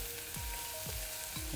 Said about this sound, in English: We are cooking these, frying them until they are